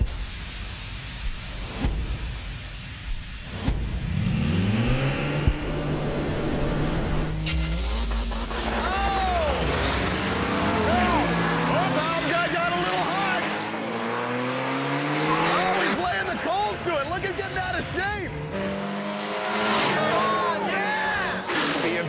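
A Saab and a BMW drag racing down a strip, engines roaring and rising in pitch as they launch and pull away, with crowd noise and a commentator talking throughout.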